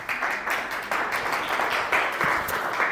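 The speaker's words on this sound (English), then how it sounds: "Give a round of applause." An audience at a property managers' association conference talk applauds with steady, even clapping that stays loud throughout and has no voices over it.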